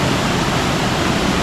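Waterfall in El Yunque rainforest, Puerto Rico, a loud, close, unbroken roar of rushing water filling the whole clip with dense, steady noise and no voices.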